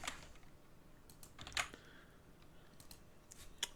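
Quiet, irregular taps and clicks on a computer keyboard come in short bursts with brief pauses as HTML hyperlink code is typed.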